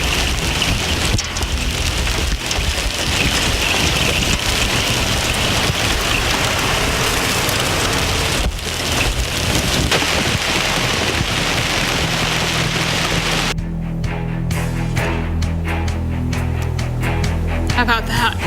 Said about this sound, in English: That was some incredible large hail.